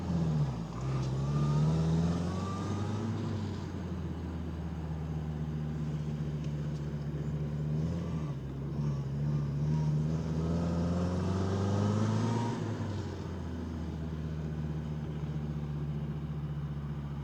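A 1967 Triumph Herald 1200's engine hums steadily from inside the cabin, rising and easing a little as it drives, with road rumble underneath and no talk.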